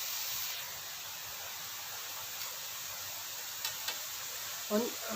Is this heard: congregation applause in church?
no